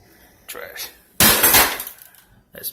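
Trash dumped into a bin during a ceiling light fixture replacement, a loud clattering burst of glass and hard debris lasting about a second, with a few quieter knocks before and after.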